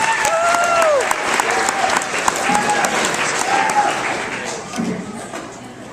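An audience applauds a featured young author, loud crowd clapping with a few voices calling out over it, tapering off toward the end.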